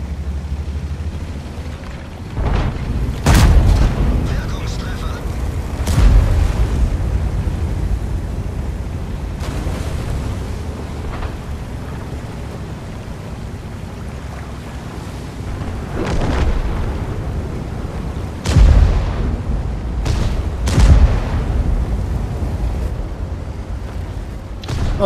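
Tank cannon shots and shell explosions in World of Tanks, featuring a Type 4 Heavy tank: a few loud, sharp booms at irregular intervals over a steady rumbling battle backdrop, with no talk.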